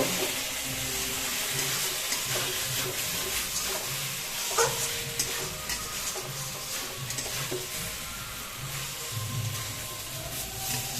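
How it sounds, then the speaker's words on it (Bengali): Rohu fish curry with potato and cumin powder stirred in a pan, a spoon scraping and turning the pieces over a continuous close sizzle of frying, with a few sharper clinks. "এবার নাড়িয়ে কাড়িয়ে নেব"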